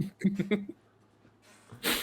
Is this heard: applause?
no